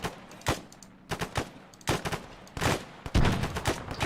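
Rapid gunfire from a video game Falklands campaign mission, bursts of automatic shots and single cracks in several loud clusters spread across the stretch, close and sharp with no talk over them.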